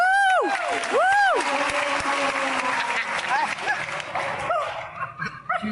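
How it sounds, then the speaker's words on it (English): An audience at a Dick Gregory comedy performance claps loudly, with excited whoops and cheers rising over the applause before it gradually thins out. "You see him clap?"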